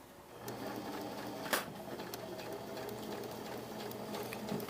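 A serger sewing machine runs steadily while finishing the sleeve seam allowances of a blouse, a continuous close mechanical whir with one brief clack partway through.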